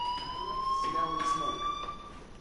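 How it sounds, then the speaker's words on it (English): A fire alarm rings steadily in the video game Life is Strange, a continuous high electronic tone with a faint second pitch above it, moderately loud and alone with no talk over it. "do you hear that fire alarm? That means you should be outside."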